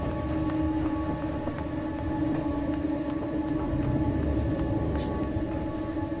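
Trains roll past in the video game Inside, a continuous heavy rumble with sustained metallic squealing tones and faint clanks throughout.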